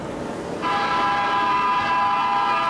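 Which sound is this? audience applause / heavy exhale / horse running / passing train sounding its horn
passing train sounding its horn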